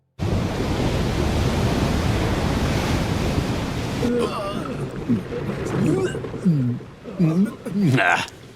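Ocean waves surge and crash around a sailing ship at sea in an anime, a loud, steady roar of rushing water at first, then voices talking over the churning surf.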